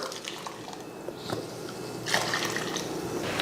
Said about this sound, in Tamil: சேர்த்துட்டு தேவையான அளவுக்கு தண்ணியும் சேர்த்துக்கலாம்.